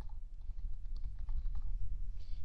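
Keys tapped on a computer keyboard while an email address is entered into a booking form, a steady run of soft, close clicks over a low background hum.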